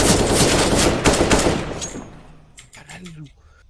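Rapid automatic gunfire in the video game PUBG Mobile, a dense burst of close shots over about two seconds, then scattered quieter reports, with someone talking over it.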